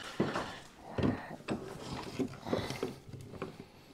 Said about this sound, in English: I'm actually going to put the router in the vise.